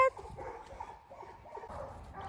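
A dog whimpers and gives soft, short yips and bark-like sounds at a low level, several brief bursts scattered over a quiet indoor background.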